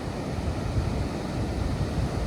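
Ocean surf at Gerroa beach rolls in as a continuous broadband wash, steady and fairly loud, with no voices.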